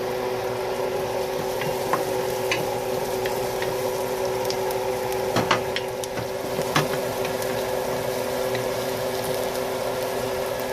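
Onion and garlic sautéing in a pan for igado produce a steady, close sizzle. Occasional small pops and crackles break through the continuous hiss.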